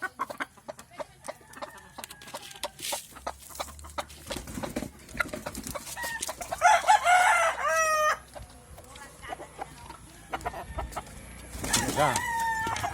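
Gamecock roosters crow loudly several times, with hens clucking in between and other birds chirping around them.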